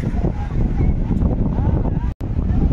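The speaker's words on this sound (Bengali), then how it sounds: "প্রচণ্ড হাওয়া চলছে কিন্তু এই বিচে।" Strong wind blows across a coral island beach at St. Martin's, roaring as a loud, buffeting rush against the microphone throughout, with a brief dropout near the end.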